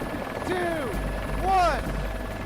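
Steady low rotor rumble and whine of a helicopter overhead, with a louder swell midway, heard under faint background voices.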